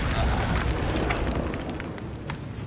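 A fiery blast of the Incendio spell in Hogwarts Legacy, a dense roaring burst of flame and crackle that stays loud throughout, with faint voice underneath.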